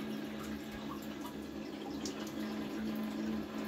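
A Qualitas Versailles close-coupled toilet from around 2002 refills its cistern with a steady, quiet hiss of running water and a low continuous hum, with no talking.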